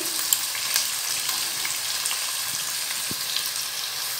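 Steady broadband sizzling of onions and ginger-garlic paste frying in a pan for fish biryani, a continuous crackling hiss with occasional small pops and stirring clinks, no voices.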